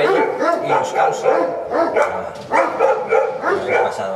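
Several dogs barking repeatedly outdoors, loud rhythmic woofs in quick succession close by, with a voice talking over them.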